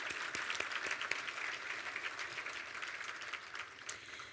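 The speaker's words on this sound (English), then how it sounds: "Let's have a round of applause for these important members." Audience at a Maine real estate forecast conference applauds steadily, a dense wash of clapping heard from a distance that softens slightly toward the end.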